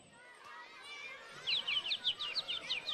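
Birds sing in an outdoor neighbourhood, a rapid run of high chirps repeating in the second half over quiet ambient murmur, moderately close and fairly faint.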